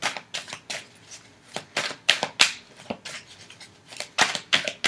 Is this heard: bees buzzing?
no